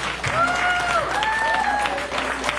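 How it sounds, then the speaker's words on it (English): A church congregation applauds its pastor at a Sunday service, a loud, dense, continuous clapping with voices calling out over it. "Give a hand clap to our pastor."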